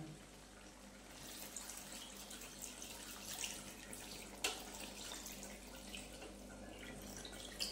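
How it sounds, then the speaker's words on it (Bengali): A bowl of milk poured over chicken in a pan, heard as a faint continuous liquid trickle and splash, quiet and close, with small clinks near the end. "আমি এখানে জল ইউজ করবো না, 1 বাটি দুধ দিয়ে দিলাম"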